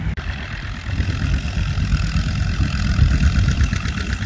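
An antique D10 tractor engine runs at a plow day, a steady, close, chugging low idle with a faint swell in intensity partway through.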